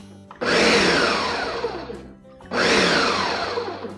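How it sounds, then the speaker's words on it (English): An electric blender whirs loudly in two bursts, each starting abruptly, running about a second and a half, then winding down before starting again. "That way your blender is not overworking."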